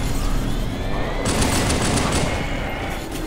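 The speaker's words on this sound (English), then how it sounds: "Rapid fire." Rapid automatic gunfire in the video game Halo 2, a dense, continuous stream of shots that grows harsher and brighter midway, loud and steady, with no talk over it.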